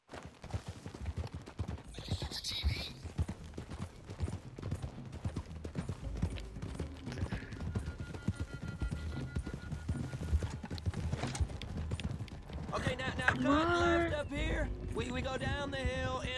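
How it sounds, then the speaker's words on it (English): Horse hooves clip-clopping steadily in the Red Dead Redemption 2 video game, a continuous trotting rhythm at moderate distance, with game voices and music cues layered over it toward the end. "Getting on my horse..."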